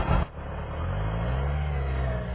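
Kawasaki motor of a T-Rex three-wheeler starting with a short burst, then settling into a loud, steady low rumble with a rising whine as it revs, close by and without talk.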